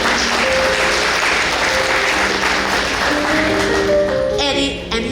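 An audience at a district breakfast event applauds the breakfast sponsor, a dense, steady round of clapping with a voice over it and a tone sounding near the end.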